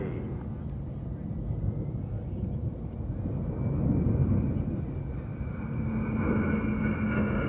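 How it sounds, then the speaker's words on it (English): Lockheed C-5 Galaxy heavy-lift transport aircraft at a USAF airshow at Nellis, its steady jet roar filling the air at moderate distance, with a faint rising whine, under an announcer's voice on the public address. "The C-5 Galaxy provides the heavy lift capability for Air Mobility Command."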